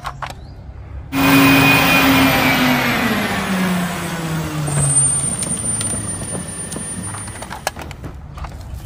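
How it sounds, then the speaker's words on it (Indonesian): A large garbage truck's engine rumbles loudly nearby, with a sharp hiss of air brakes and a brief high whine, steady for several seconds before easing slightly. "wow, mobil truk sampah"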